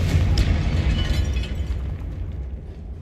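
A Confringo spell explodes in the video game Hogwarts Legacy: one loud, close, rumbling blast with deep low-end weight that slowly fades over a few seconds, with no voices.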